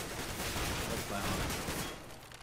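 Gunfire rattles in a Counter-Strike: GO match, a dense burst of close shots filling the moment with gritty crackle, trailing off near the end.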